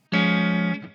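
An electric guitar played through the clean channel of a Friedman Runt 50 amp, miked on a 4x12 cabinet with added delay and reverb, rings out in a single sustained chord that holds for most of a second, then fades.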